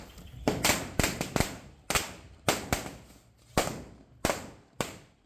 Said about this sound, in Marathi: इथे ती फटाकड्या वाजवत आहे